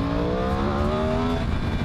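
A 2020 Yamaha R1 sport motorcycle engine revs hard and climbs steadily through the range, its loud, continuous harmonic whine rising in pitch and filling the whole clip with no voices over it.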